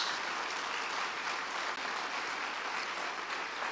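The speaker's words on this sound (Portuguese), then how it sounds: "Podemos aplaudir Jesus porque ele merece." A church congregation applauds together in a steady, sustained wash of clapping at moderate distance, with no voices standing out.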